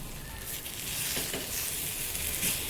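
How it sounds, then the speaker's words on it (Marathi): Corn tikki shallow-frying in a little oil in a pan gives a steady, close hiss of sizzling, with a few soft scrapes as the patties are turned. "थोड्या थोड्या तेलात हे आपण आलटून पालटून चांगलं भाजून घ्यायचे"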